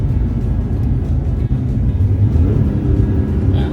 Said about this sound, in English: Oh, a little throttle match in there.